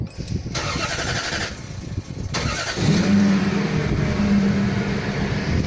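A Toyota Celsior / Lexus LS400 engine starts after a brief crank and settles into a smooth, steady idle, with a low, mellow exhaust note close by.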